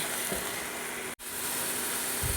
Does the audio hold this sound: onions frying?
yes